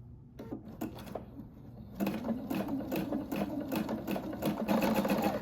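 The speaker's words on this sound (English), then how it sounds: "Just hug into it. And we're just going to sew." Sewing machine stitching a coiled rope bowl, starting with a few quiet taps, then running in a steady rapid mechanical chatter at close range, with no voices.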